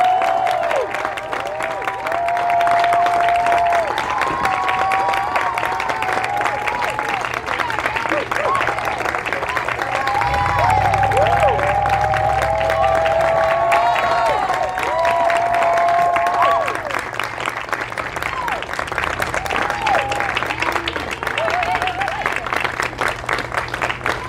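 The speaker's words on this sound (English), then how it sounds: "Keep it going, clap it up until she gets up here and gets settled, y'all." A live audience applauds and cheers a performer walking to the stage, giving dense sustained clapping with whoops and shouts throughout, while voices talk over the crowd.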